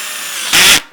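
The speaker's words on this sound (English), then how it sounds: "and then drill it through." A power drill bores through a wooden bar for a handmade marimba: a steady whir that jumps into a louder, harsher grind for a fraction of a second before winding down, close and alone.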